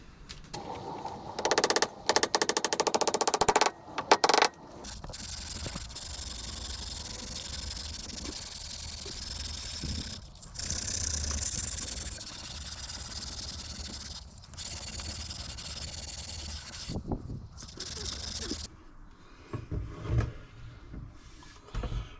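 A piece of wood is sanded by hand in long continuous rasping strokes, close and steady, broken by short pauses and a few bumps and knocks before the sound stops.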